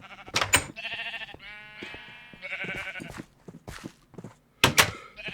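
Sheep bleat repeatedly among a flock in the video game Minecraft GregTech, several wavering cries in a row, fairly close and loud, with soft thuds between them.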